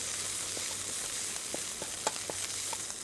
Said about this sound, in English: make sure that you fry the paste first in the oil or some coconut milk to allow the flavours to